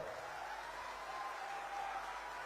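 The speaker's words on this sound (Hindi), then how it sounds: "जोर से ताली बजाओ।" Crowd at an outdoor political rally in Seraikela applauding, an even, continuous wash of distant clapping with no voices over it.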